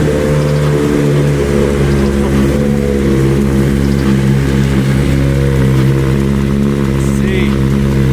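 A BMW S1000RR sport bike's engine runs close by as a loud, steady droning idle, holding an even mechanical hum for the whole stretch.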